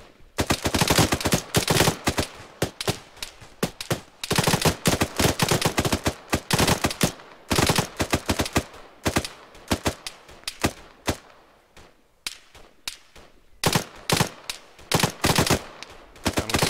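Gunfire in the military shooter game Arma 3 during squad training: repeated bursts of rapid automatic shots, loud and close, broken by short pauses between volleys across the whole stretch.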